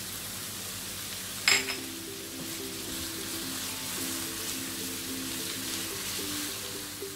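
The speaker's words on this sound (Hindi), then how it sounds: "और अब हम इसको थोड़ा पकाएंगे" Chopped onions fry and sizzle in a pan for a Hindi-style lauki kofta curry base, a steady close hiss with a brief clatter near the start, no talking.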